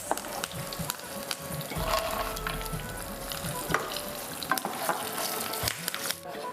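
Mustard seeds, cumin, asafoetida and peanuts sizzle in a pan on a Marathi TV cooking show, a busy crackling hiss broken by sharp pops and spatters.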